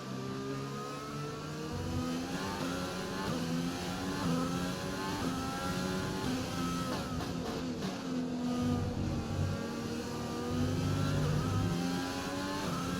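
An F1 car engine in the video game F1 2020, driven at half throttle in the rain in Spain, holds a steady mid-pitched drone that rises and falls slightly across thirteen seconds, with no talking.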